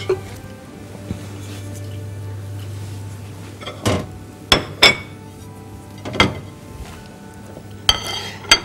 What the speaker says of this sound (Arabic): ونبتدي نفتح الحلة ونطلع منها التشيز كيك أو أي حاجة احنا عملناها فيها